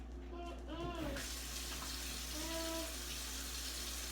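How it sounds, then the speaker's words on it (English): A household tap runs in a sink while hands are washed, a quiet steady hiss of water with a voice and other faint voices heard briefly over it. "Come on, let's wash your hands."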